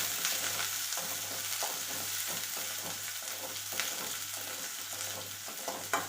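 Sliced onion and two large green chillies frying in a pan, a constant close sizzle with repeated scraping stirs every half second or so and a low steady hum beneath, no talking.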